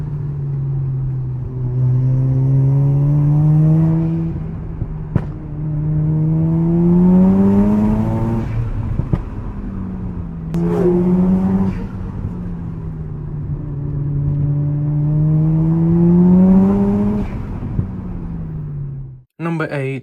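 A Mazda FD RX-7 with a 1.3-liter rotary engine revs high in repeated rising sweeps. Each climb screams upward, then drops back sharply, in roughly three long pulls, loud and close.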